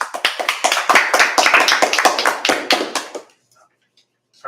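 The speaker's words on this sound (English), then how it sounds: "It's hard to hear you over the applause." Small audience clapping sparsely at a talk, a few distinct hand claps in an uneven rhythm that thin out and stop after about three seconds, followed by near silence.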